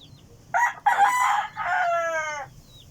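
A backyard gamefowl rooster, golden sweater line, crows once close by: a loud, clear cock-a-doodle-doo in broken segments ending in a long drawn-out note over a quiet background.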